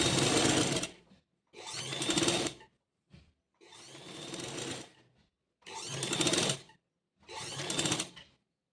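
A sewing machine stitching sleeves onto a nightgown runs in five or six steady bursts of rapid whirring, each a second or so long, separated by short silent pauses, close and clear.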